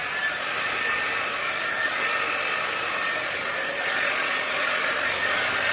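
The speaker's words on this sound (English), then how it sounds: "We are going to freshen up these roots a little bit with the hair dryer" A hair dryer blows steadily on hair roots with a constant loud whooshing hiss, running alone without any break.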